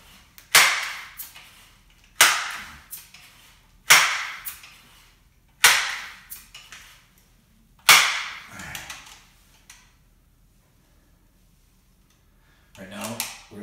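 Benjamin 392 pump air rifle firing pellets at a target 13 yards away, five sharp, loud cracks spaced roughly every two seconds, each with a short decaying tail, followed by quiet and a brief rustle at the end.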